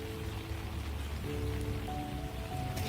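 Rain patters steadily on a mini farm, a dense continuous hiss of drops with a faint tonal hum in the background.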